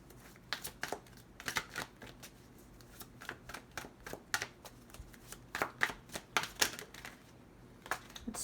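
Tarot cards being shuffled, a soft crisp run of riffling flicks and taps, close and quiet, arriving in irregular clusters with no voice over them.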